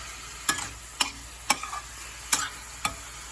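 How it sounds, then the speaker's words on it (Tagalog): Igado meat seasoned with pepper is stirred in a frying pan, with five sharp utensil scrapes against the pan at an uneven, unhurried pace over a steady sizzle, close up and with no talking. "Akin ulit ang hahaluin para bisang-bisa."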